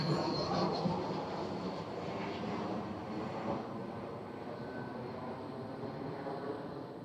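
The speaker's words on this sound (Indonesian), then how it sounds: "Pesawat." A steady, broad engine roar from an airplane passing overhead at Angke mangrove park holds for several seconds, fairly distant and even, with no talking.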